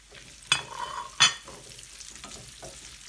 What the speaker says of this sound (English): I'm just going to go ahead and add our franks so it could all fry together